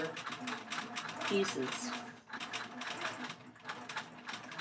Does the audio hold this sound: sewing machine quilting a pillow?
yes